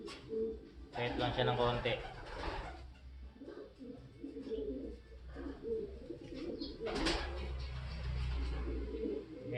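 Newly imported pigeons coo softly in low, repeated notes close by, while someone talks over them through most of the stretch.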